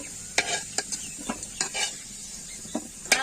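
Potatoes fried until reddish-brown in a pan and stirred, the spatula making a series of sharp scraping strokes over a soft, steady sizzle, close and fairly quiet.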